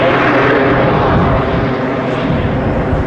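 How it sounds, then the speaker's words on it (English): An aerobatic aircraft's engines kick in at the Bournemouth Air Festival, a loud, continuous roar with a broad rushing texture, fairly close and easing slightly partway through, with no talking. "And there you hear those jets kicking in."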